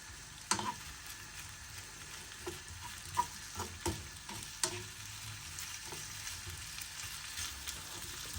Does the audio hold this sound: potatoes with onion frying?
yes